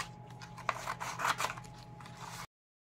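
Scissors snip out small paper tags for a journal, giving a quick series of close, crisp cuts over about two seconds, with no talking.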